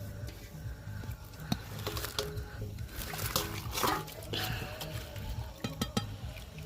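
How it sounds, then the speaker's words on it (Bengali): Boiled chow mein noodles being drained, a faint trickle and dribble of water with small splashes and drips, soft and close, continuing steadily for several seconds. "এদিকে আমাদের চাউমিন সেদ্ধ হয়ে গেছে। এবার এটাকে জল ঝরানোর জন্য রাখা হলো।"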